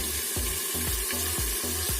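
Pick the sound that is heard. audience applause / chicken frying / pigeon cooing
chicken frying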